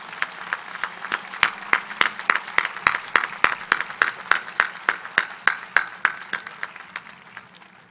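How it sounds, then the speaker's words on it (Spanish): Applause for graduates at a university graduation ceremony, a brisk, even run of close, sharp claps that stays steady and fades slightly toward the end, with no talk over it. "les pido a los presentes un fuerte aplauso para los jóvenes graduados"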